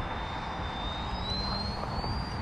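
A radio-controlled model airplane drones steadily overhead in a continuous engine whine, its pitch slowly rising as it flies, with no talk.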